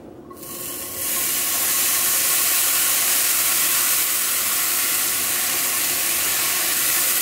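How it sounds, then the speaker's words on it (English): Thin layer of cheddar cheese hitting a hot small pan for low carb taco shells, bursting into a loud, steady hiss of sizzling after a second of quiet that holds evenly to the end. "we're gonna start by adding a thin layer of cheese to the bottom of the pan."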